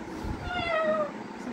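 A voice imitates a cat, producing a single drawn-out meow that glides downward, moderately loud and close.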